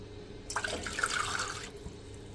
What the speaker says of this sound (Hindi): अब मैं इसके अंदर डालूँगी 2 कप दूध।